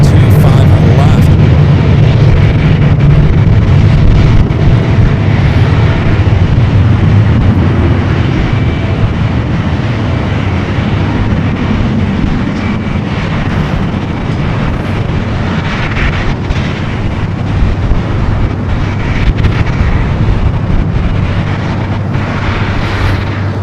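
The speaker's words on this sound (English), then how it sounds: "Virgin Atlantic flight 70, A350-1000, touching down at 25 left." A Virgin Atlantic Airbus A350-1000 jet touching down on runway 25 left at LAX, a sustained loud roar of engines and rushing air with heavy wind buffeting on the microphone.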